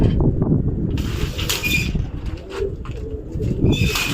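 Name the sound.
pigeons cooing as they enter their coop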